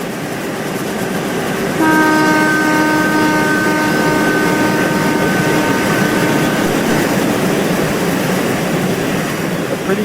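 A JR 203 series and a KRL train run in the RO-Scale Sandbox game, with a steady rolling rumble and a loud, sustained horn blast that starts a couple of seconds in and holds for several seconds.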